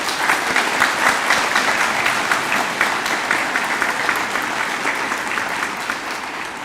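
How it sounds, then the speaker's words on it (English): Loud, dense applause from a large audience at a high school commencement, a steady wash of clapping that continues evenly before tapering slightly at the end. "If we could just get one last round of applause for all 4 of our honorary essays."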